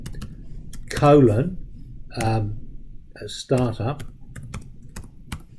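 Fingers type on a computer keyboard in quick clusters of close, crisp key clicks, with someone talking over and between the bursts.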